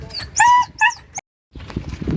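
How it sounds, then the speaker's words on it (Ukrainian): A mixed-breed city dog, just collected after a sterilization operation, whimpers and cries in two close high-pitched bursts, ends with a brief yelp, then falls silent before soft rustling and handling noises follow. "Та вона кричить знаю. Це чиста городська собака."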